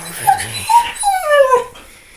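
Dogs nosing around under a dishwasher let out high, tremulous whimpers and thin yips in several drawn-out, rising and falling cries, loud and close, with no talking.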